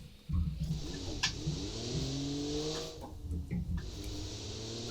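A video game car engine in BeamNG revs up loudly with rising pitch, drops off briefly during manual gear changes, then climbs again in a steady acceleration.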